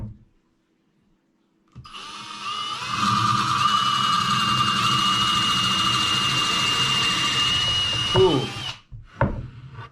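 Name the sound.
drilling a hole in wood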